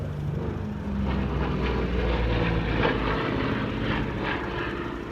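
A big B-24 or B-25 warbird bomber flies past at an airshow, its piston propeller engines making a loud, sustained roar that swells and holds for several seconds.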